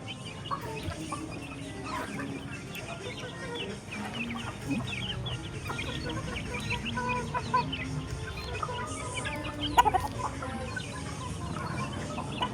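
Boston Roundhead gamefowl of mixed sizes cluck continuously during a Sunday feeding, with many overlapping birds close by and a busy farmyard bustle, plus a brief sharper squawk near the end.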